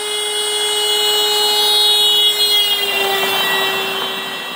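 A passing car's horn gives a loud, sustained, buzzy blare whose pitch sinks slightly as it goes by, heard alone with no talk.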